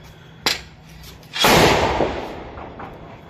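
A homemade sulfur-potash gun fires a single loud, sharp bang that rings out and decays, preceded by a small click about a second before.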